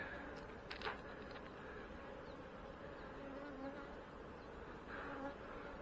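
Honey bees buzz steadily around an open hive during a hive inspection, a continuous close, moderately loud drone that swells slightly at moments.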